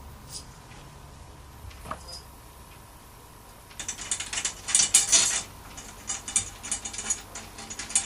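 A ratcheting tool spins tension rod screws into the lugs of a tom tom drum, a fast metallic clicking that starts midway and continues in uneven bursts.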